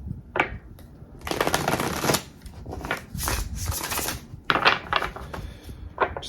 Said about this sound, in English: All right, so let's shuffle this deck.